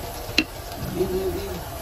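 Banana cue pieces being stirred in hot oil, a steady low sizzle with a sharp utensil scrape near the start and soft stirring after.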